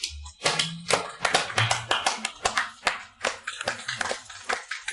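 Clapping from an audience after a speech at a gathering: uneven, distinct hand claps from a modest group, close and fairly quiet, rising and falling in patches with no talking.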